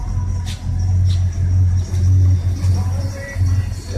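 A car engine through a stainless steel exhaust with a chrome tip, heard close with repeated short throttle blips, each rev rising and then falling back to a low rumbling idle, with faint voices nearby.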